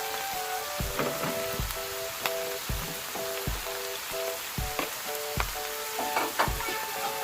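Seafood pad thai made without noodles, with bean sprouts and garlic chives, is stir-fried in a pan. A steady sizzle runs under rhythmic scraping and clacking strokes of the utensil, with no talking.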